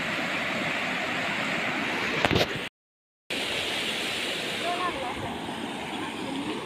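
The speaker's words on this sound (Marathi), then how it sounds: "कसलं पाणी आहे, लय पाणी झाले." A village stream in heavy flow, with lots of water rushing in a loud, constant roar close by and a brief gap in the middle.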